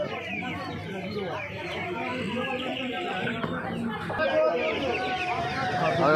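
Native desi chickens cluck and squawk continuously at a busy hen market in Uluberia, with people talking and haggling close by over the birds.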